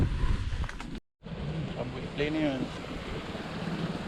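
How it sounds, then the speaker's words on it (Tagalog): Strong wind buffets the microphone with a constant broadband roar at a breezy beach spot in Bukana, Kaguray, during the amihan northeast monsoon, with a short dropout and brief voices talking over it. "Nandito na po tayo sa napakahangin na spot. Amihan po kasi"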